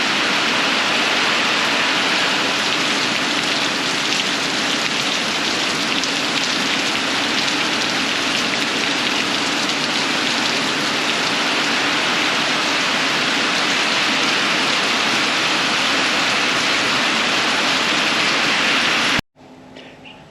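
Heavy rain pours steadily in a dense, unbroken hiss for nearly the whole stretch, then cuts off abruptly at the end.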